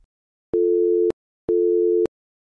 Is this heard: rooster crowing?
no